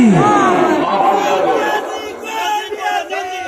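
A crowd at an Islamic conference (Azmat-e-Islam) answers a takbir chant, many voices shouting together loudly at first, then fading into scattered calls and chatter.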